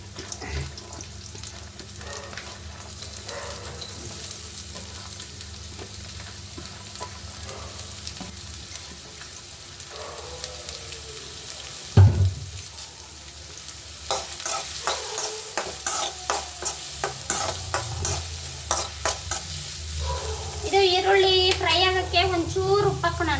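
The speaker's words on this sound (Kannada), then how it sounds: "ಎಣ್ಣೆಗೆ ಫಸ್ಟು ಬೆಳ್ಳುಳ್ಳಿ ಹಸಿಮೆಣಸಿನ್ಕಾಯಿ ಹಂಗೆ ಈರುಳ್ಳಿ ಹಾಕ್ಕೊಂಡ್ರೂ ಫ್ರೈ ಆಗಿಬಿಡುತ್ತೆ" Garlic, green chillies and onion fry in hot oil, with a continuous sizzle and a run of quick stirring scrapes in the second half. A thud, some splashing water and a brief voice near the end sit over the frying.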